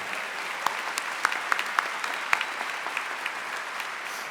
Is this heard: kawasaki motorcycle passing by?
no